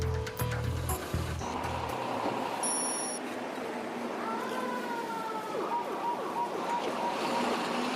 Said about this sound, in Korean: 한밤중 마을을 들썩이게 하는 사이렌 소리.